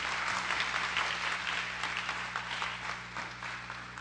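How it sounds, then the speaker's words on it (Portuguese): A church congregation applauds for several seconds, a dense, even wash of many hands clapping filling a large hall with no voices on top. "Então vamos dar um aplauso para Jesus pela vida desse homem de Deus."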